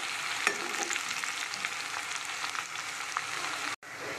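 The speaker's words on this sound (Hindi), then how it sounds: "लहसुन अदरक हमने कूट कर रख लिया था, हम इसमें शामिल करेंगे। हल्की आंच कर दें और इसको 2 मिनट तक फ्राई कर लें।" Crushed garlic and ginger frying on low heat in a pan for saag, a steady close sizzle with light crackles and a stir, cut by a brief silence near the end, with no talk.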